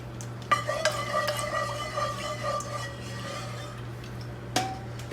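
A spoon or paddle stirring home-brewed wort with cocoa in a boil kettle, a steady scraping swirl with a low hum underneath and occasional metallic clinks, no one talking.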